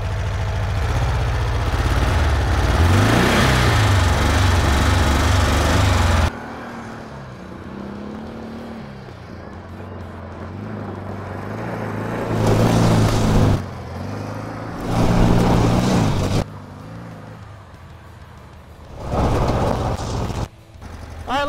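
Dune buggy engine running loudly at first, then dropping to a steady idle with a few revving surges and uneven throttle bursts later on.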